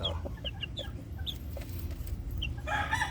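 Bulik gamefowl roosters, one a Mel Sims Black cross, cluck in short repeated calls with a brief crow near the end, heard close over a low steady background rumble.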